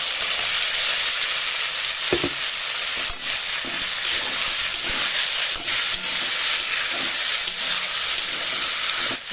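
Potatoes tipped into oil-separated fried spice paste for a vegetarian stuffed papad curry, a loud continuous sizzle and hiss with a few stirring knocks, close and without speech.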